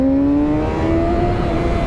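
A Kawasaki Ninja motorcycle engine hums loud and close with a steady, slightly rising tone, a gentle rev rather than hard throttle, ridden through a restricted area.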